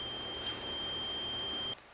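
A multimeter sounds a continuous high continuity beep while testing aluminum Yagi antenna tubing, a steady close tone that cuts off after under two seconds.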